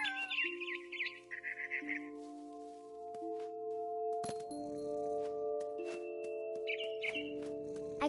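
Bird chirping in the video game What Remains of Edith Finch, a few quick high tweets near the start and again later over a sustained tonal game music drone, with a sharp crack midway.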